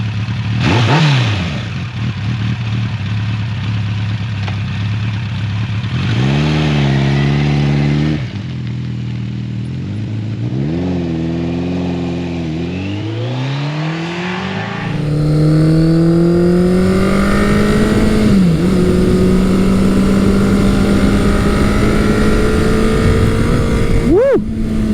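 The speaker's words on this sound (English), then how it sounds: "I am currently riding Kawasaki's 1985 Hooligan bike. It is their 900 Eliminator" A 1985 Kawasaki 900 Eliminator motorcycle ridden on the road, its engine revving up and dropping through gear changes, loud and close with wind noise, then holding a rising steady drone.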